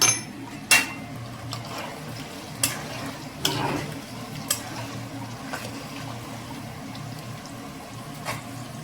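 Paneer frying in oil in a pan makes a steady, soft sizzle, broken by occasional light clinks and scrapes of a spatula, close and fairly quiet with no talking.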